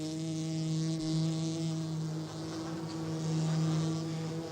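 Honeybees buzz inside the hive while fanning air through the colony, a dense steady hum with fluctuating intensity, close and continuous with no voices.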